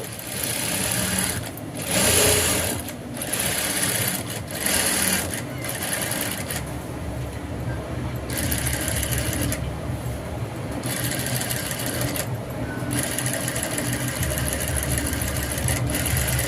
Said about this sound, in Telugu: ఇటువైపు కూడా ఇటువైపు కూడా స్టిచ్ అనేది వేసుకుందాము